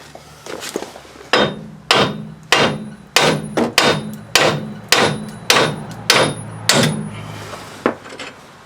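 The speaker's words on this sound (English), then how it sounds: "Then we just gotta knock these bolts out." Hammer knocking seized hub strap bolts out of an axle hub, a series of about fifteen loud, close metallic whacks in an uneven rhythm, each with a short ringing decay.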